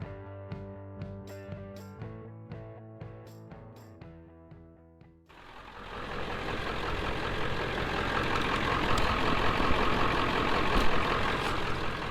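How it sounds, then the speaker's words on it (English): A modified 7.3L Powerstroke diesel truck runs on straight number 2 diesel with no additives. After a short musical intro, a loud, steady, close idle rumble takes over and continues unbroken with no talking. "I'm going to let this thing idle here for a while, see if it keeps on going"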